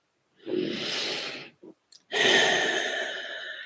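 Two slow, deep breaths sound close and alone, a long inhale followed by a long exhale with a soft airy rush. A couple of tiny mouth sounds fall between them.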